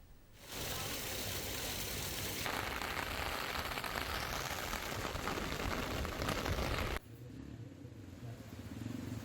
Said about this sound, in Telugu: పాట్నీ, పారడైజ్, బేగంపేట ప్రాంతాలలో భారీ వర్షం కురిసింది.